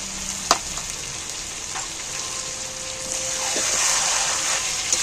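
Ginger paste and meat masala for a chicken curry frying in a pan, with a steady bright sizzle throughout that grows a little louder toward the end, a sharp clink near the start and occasional light stirring scrapes, no talking.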